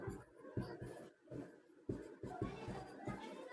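Handwriting an equation for a class 10 maths exercise: soft, close pen or chalk strokes in short irregular scratches, with quiet speech in the background.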